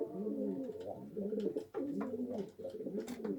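Young racing pigeons on a loft roof coo in repeated soft, rolling phrases, faint and close, with no voices.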